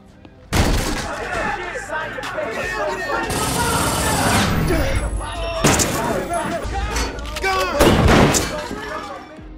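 A gunfight between police and a cartel at its hideout in an action film, with loud bursts of rapid gunfire and sharp shots over dramatic music, a voice speaking over parts of the mix.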